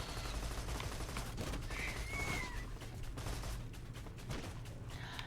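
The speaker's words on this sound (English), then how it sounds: "And also an autocannon." Autocannon fire in the video game Borderlands comes as rapid repeated bursts of shots over a steady low rumble, fairly faint and mixed with other battle noise.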